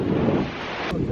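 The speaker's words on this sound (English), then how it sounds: "It's really windy" Strong wind buffets the microphone on a deserted sand island beach in Zanzibar, a steady broadband roar with a brief gust near the end and no voices.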